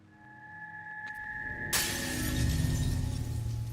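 Something shatters with a sudden bright burst of breaking glass in the puzzle game Lorelei and the Laser Eyes, cutting through a quiet tonal hum and leaving a sustained crackling wash afterward.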